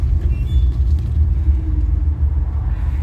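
Rover P5B coupe with a 3.5 V8 idling after running for about half an hour with the temperature gauge still low: a loud, close, steady low burble and rumble with little change over a few seconds.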